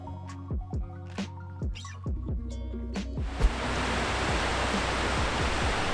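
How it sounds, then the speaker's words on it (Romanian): Godafoss waterfall in Iceland, heard as a steady, full roar of falling water that comes in and holds loud and broad after a short stretch of quieter, clattering handling noises at the start. "Am ajuns la una dintre cele mai faimoase cascade din Islanda, se cheamă Godafoss"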